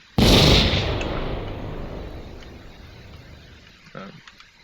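An artillery gun from the Rusty Shell mod in the game Vintage Story fires once, a loud, sudden boom that rolls and decays over several seconds, followed by a fainter thump near the end.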